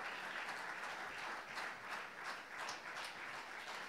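Congregation applauding during a church service, continuous dense clapping from a large room heard somewhat distant and moderately quiet, rising and falling slightly.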